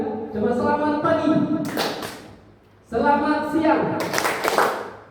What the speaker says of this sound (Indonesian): Kalau saya katakan selamat siang, tepuk tangannya 2 kali.